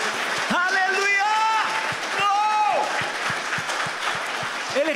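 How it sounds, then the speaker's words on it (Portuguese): A church congregation claps loudly and steadily while a preacher's voice rises in excited, drawn-out exclamations over the applause. "Você pode aplaudir a ele bem forte, aleluia!"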